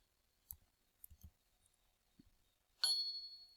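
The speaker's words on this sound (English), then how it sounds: "Great, I get a bing" A computer program plays a bright confirmation chime that rings out and fades near the end, after a few quiet mouse clicks spaced apart.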